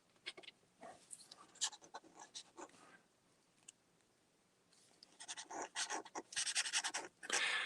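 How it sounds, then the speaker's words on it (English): Scratchy pen nib writing on paper, bursts of dry scraping strokes that pause in the middle and return louder and denser toward the end, close and alone with no talking. "This is a pen that has a scratchy sound to it."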